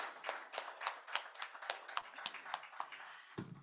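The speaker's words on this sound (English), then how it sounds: "can we warm up the room with a thunderous round of applause for everyone here present?" Applause from a conference audience at a forum, a run of fairly sparse, distinct hand claps at a steady rhythm, moderately near and not very loud.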